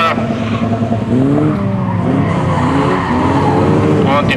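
Rally cars at a rally sprint in Straubing, among them a BMW 318 and an Opel Astra, rev and skid with tire squeal, loud and close throughout, amid a steady crowd and commentary din.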